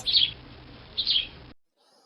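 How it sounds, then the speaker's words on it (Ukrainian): Two short bursts of bright sparrow chirping, close and clear, separated by a brief pause and ending in near silence. "Хто це, діти? Горобець."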